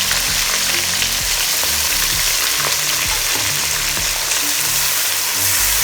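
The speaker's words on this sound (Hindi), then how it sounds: "अब हम इसमें प्याज डाल के ब्राउन कर लेंगे हल्का सा" Onions frying in hot ghee until lightly brown, a loud, dense, unbroken sizzle with faint stirring knocks underneath, heard up close with no one talking.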